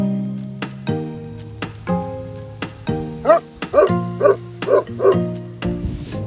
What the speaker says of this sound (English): My Great Pyrenees will not stop barking.